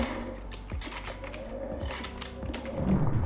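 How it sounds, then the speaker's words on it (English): Typing on a Leaven K550 mechanical keyboard, a close, quiet run of quick clicky keystrokes in an uneven rhythm, with no other sound. "Leaven K550 mechanical keyboard."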